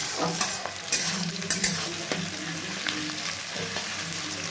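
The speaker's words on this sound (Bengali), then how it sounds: "এবার ভালো করে ভেজে নিচ্ছি" Onions and mutton frying in a pan with steady sizzling and repeated stirring scrapes, continuous and close, no voices.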